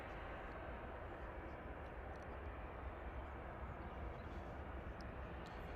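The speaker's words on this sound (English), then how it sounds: "Air Portugal departing to Lisbon now, flight 1313, CSTNT, A320 Classic in the background" Air Portugal Airbus A320 departing Manchester Airport, a faint, distant, steady jet engine rumble with occasional talk.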